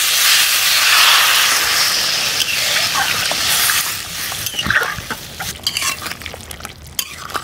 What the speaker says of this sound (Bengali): আমি এখন জল দিয়ে দিচ্ছি।